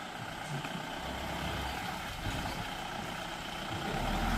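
A loaded goods vehicle reverses through mud, its engine a faint, low rumbling drone that holds steady and swells slightly toward the end.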